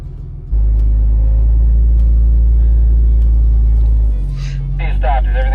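An off-road vehicle crawls slowly while its front tire tries to grab, giving a loud, close, steady engine rumble that dips briefly, with people talking over it.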